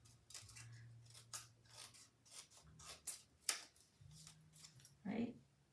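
Scissors snip through a paper card in a handful of short, crisp cuts spread over a few seconds, close by, with someone talking quietly in between.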